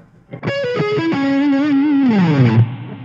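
A distorted electric guitar rips through a quick sweep-picked seventh-chord arpeggio, ending on a sustained note with wavering vibrato.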